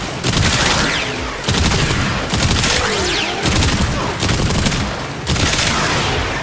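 Rapid bursts of gunfire from a burst weapon in the PC shooter game Warframe, loud and close, coming in several dense volleys separated by short pauses.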